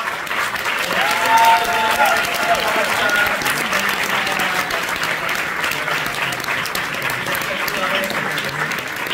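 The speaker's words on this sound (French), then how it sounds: "Je peux applaudir encore plus fort que ça" Steady applause for the jury at the closing ceremony of the Strasbourg fantastic film festival FEFFS 2024 rolls on throughout, with a voice speaking over the clapping crowd.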